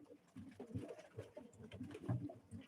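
Pigeons coo at a live pigeon auction, a soft, low, continuous burbling of overlapping calls that stays fairly quiet throughout.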